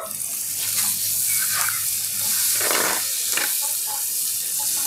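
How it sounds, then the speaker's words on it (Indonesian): Water poured into a hot pan of spicy soy-sauce gourami with ginger sets off a loud, steady hissing sizzle that continues evenly for several seconds. "Kita tambahkan sedikit air biar enggak nyengai, guys"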